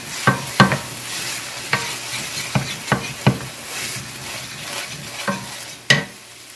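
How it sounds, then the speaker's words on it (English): Onions cooking in a pan, stirred repeatedly: a steady faint sizzle runs throughout, broken by sharp scraping knocks of a utensil at irregular intervals, with no talking. "we will just cook this until these onions are tender"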